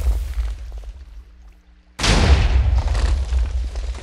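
A cannon in a video game fires after a quiet wait, then a sudden loud booming explosion with a rumbling, crackling roar that sustains to the end.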